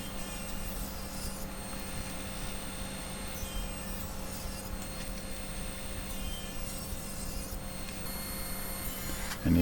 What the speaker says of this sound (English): So we'll cut as many strips as we can get out of this one block of wood.